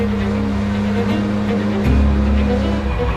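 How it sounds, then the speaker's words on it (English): Two 800-horsepower Subaru hill climb race cars pull away up a mountain course, their engines a loud, sustained roar that deepens and surges partway through, with a hint of tire noise. "the 2 800-horsepower hill climb cars between Higgins and Pastrana have departed up the hill"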